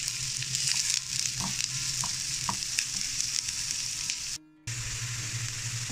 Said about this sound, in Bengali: পেঁয়াজ দিয়ে দিব, পেঁয়াজটা একটু গরম করে ভেজে নিব।